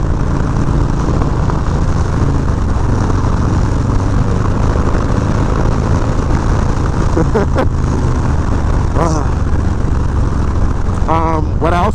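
Motorcycle engine droning steadily throughout a cold-weather ride, loud and continuous with wind rush, a voice briefly speaking near the end.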